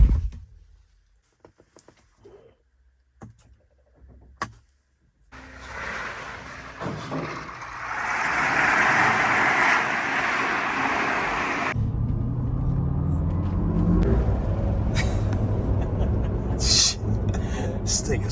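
A 1000 horsepower electric GMC Hummer accelerating with a rising electric whine and road rumble, loud and sustained after a quiet start, with cabin voices under it.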